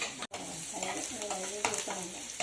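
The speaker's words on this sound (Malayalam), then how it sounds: "അമ്മ ഇവിടെ കടുക് പൊട്ടിക്കുകയാണ് എണ്ണ ഒഴിച്ച് കടുകിട്ടു" Mustard seeds crackle in hot oil in a home kitchen, a dense close sizzle with scattered sharp pops running through the whole short stretch and no voices.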